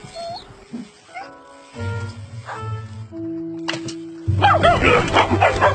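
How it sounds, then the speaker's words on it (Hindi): A dog barks at a bird in a short series of yips and whimpering barks, close and fairly loud, ending in a burst of louder, busier barking. "इस कुत्ता उस पक्षी को देखकर भौंक रहा था।"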